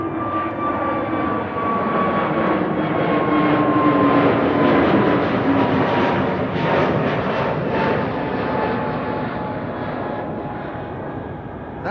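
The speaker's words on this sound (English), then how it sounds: "Tui to Punta Cana is arriving at the threshold" A TUI airliner bound for Punta Cana nears the runway threshold at Amsterdam Schiphol, its engines a loud, broad roar that swells to a peak around the middle and slowly fades, with a faint whining tone drifting downward.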